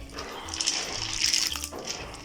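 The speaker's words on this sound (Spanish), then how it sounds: "Agregamos el maíz al agua con cal" Maize is tipped into water mixed with lime for nixtamal, a short burst of splashing and sloshing liquid heard up close without speech.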